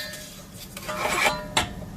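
A utensil scraping and stirring caramel in a pot on the stove for homemade crème caramel, with soft rasping strokes building into a couple of metallic scrapes and a clink against the pan, close and alone.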